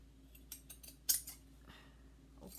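Scissors cutting lace fabric for a clutch purse: a handful of quiet, close snips, one crisper and sharper than the rest, alone in a hushed room.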